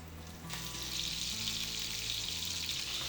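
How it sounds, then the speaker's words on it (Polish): Frog legs sizzle steadily in clarified butter in a hot pan over a medium burner, a continuous bright crackle and hiss with a low hum underneath, no voices. "Żabie łódka. Smażymy półtorej minuty."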